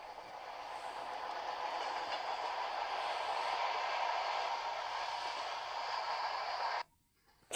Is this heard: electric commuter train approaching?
yes